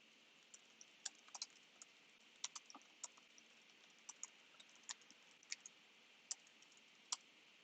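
Soft, irregular clicks of typing on a computer keyboard, with scattered keystrokes and brief pauses, close and quiet with no voices.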